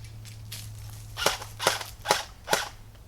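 Four sharp gunshot sound effects for a muzzle flash edit, crisp pops evenly spaced about half a second apart, loud and close, standing alone over a low steady hum with no talking.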